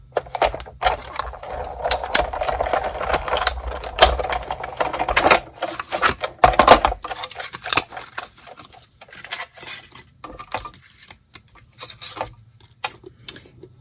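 Electronic cutting machine slicing through a sheet of silver foil for a Christmas craft, giving a busy mechanical whir and ticking patter, loudest early and tapering into sparse clicks and pauses, close by with no talking.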